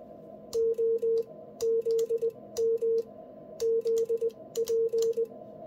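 An Icom amateur radio sends CW Morse code as a steady sidetone, with crisp rhythmic dots and dashes repeating in short groups over a faint hiss, clear and close.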